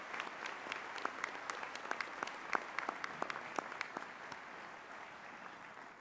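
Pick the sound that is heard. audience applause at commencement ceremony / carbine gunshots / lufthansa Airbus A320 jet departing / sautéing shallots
audience applause at commencement ceremony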